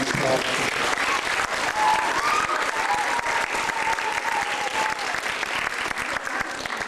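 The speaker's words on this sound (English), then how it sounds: "Let's give them a warm applause" At a community event in Newmarket, Ontario, an audience gives the councillors warm, sustained applause, a loud, dense spread of clapping running throughout, with a faint voice rising briefly in the middle.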